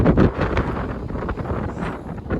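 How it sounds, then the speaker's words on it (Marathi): Gusty wind roars and buffets the microphone close up on the Harishchandragad trek, a loud rumbling rush that rises and falls without pause. "खूप वारा सुटले खूप"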